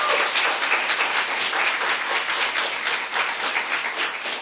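Party members at a political speech event applaud as a speaker is introduced, a continuous, even wash of many hands clapping at moderate loudness with no talk over it.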